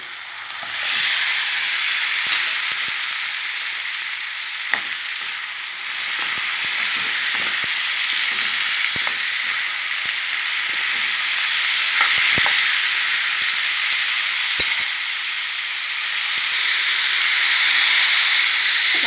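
Red curry paste stir-frying with dried chilies in a hot pan for pork rib kaprao, a loud continuous sizzle and hiss with scattered scraping clicks of the spatula, no voices.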